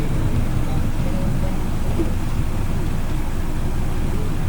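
Dense, steady roadside rumble of passing traffic and motorcycles on a village road in Catanduanes, Philippines, low engine noise, a continuous outdoor ambience with no clear voices.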